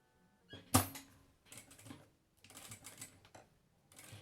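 A sewing machine stitches along a zipper on a handbag, with a loud clack near the start followed by several short bursts of mechanical whirring broken by brief pauses. There is no talking.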